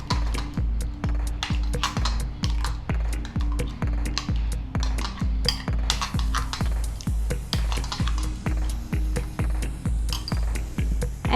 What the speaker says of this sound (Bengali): এবার ডিমের সঙ্গে এগুলোকে খুব ভালো করে মিশিয়ে নেব।